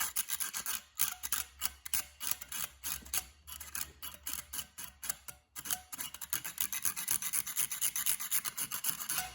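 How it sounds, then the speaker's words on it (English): A small file rasps back and forth in quick, uneven strokes against the rusty, corroded battery terminals of a vintage Sanyo MGP9 personal stereo cassette player, close up and fairly quiet, with no voices. "So let's just give them a bit of a file."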